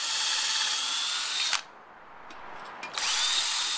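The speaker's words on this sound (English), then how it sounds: "it's just a matter of pre-drilling where we're gonna bolt this up" A power drill whines steadily, pre-drilling a log for bolts, stops briefly with faint scraping, then starts up again, loud and close.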